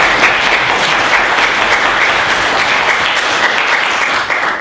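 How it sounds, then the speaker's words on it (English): Audience applause at a tech meetup fills the room, a dense, loud, sustained clapping from a crowd without a break. "Let's give Roger a round of applause"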